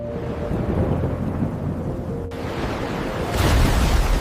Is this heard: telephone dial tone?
no